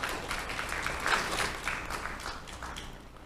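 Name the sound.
audience round of applause welcoming a panelist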